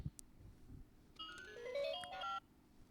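A phone call being placed, heard as a short melodic electronic ringtone of rising tonal beeps lasting about a second, fairly faint against a quiet room, with soft rustling before it.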